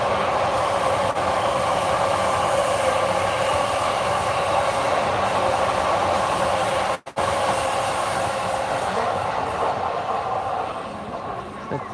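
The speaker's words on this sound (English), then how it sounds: "That's the Chuo line going by there." A Chuo line train passes through Tokyo near a riverbank lined with cherry trees, a steady, fairly loud rumble of rolling cars that holds for the whole stretch, with a brief dropout midway and a slight fade near the end.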